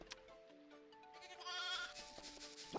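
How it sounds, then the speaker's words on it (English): A sheep bleats in the farm video game Farm Frenzy 4, a quavering cartoonish call set against sustained musical tones and light game chimes. The sounds are faint and clean, with no talk over them. "Oh, but we start with a sheep."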